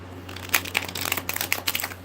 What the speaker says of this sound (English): Shuffling my tarot cards, coming from the Tarot Apocalypsis.